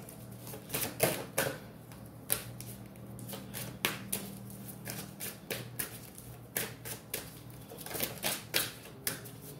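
Tarot cards being shuffled close up, with quiet riffles and sharp snapping taps in irregular bursts throughout, no talking.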